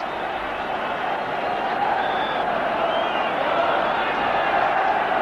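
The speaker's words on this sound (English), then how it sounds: "The home crowd give him fulsome applause." Home supporters applaud at a 1983 Burnley v Sheffield Wednesday FA Cup quarter-final, a broad, steady wash of clapping and crowd noise from the stands that holds evenly throughout with no single voice standing out.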